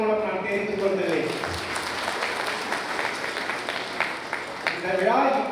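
An audience at an anniversary ceremony attended by the Tamil Nadu governor breaks into thick, sustained applause, with someone speaking over the clapping at the start and again near the end.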